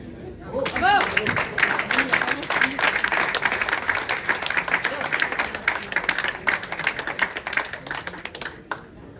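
Audience at the final of a breakfast and brunch competition breaks into applause, a sharp onset of many clapping hands that holds steady and slowly thins toward the end, with voices faintly mixed in.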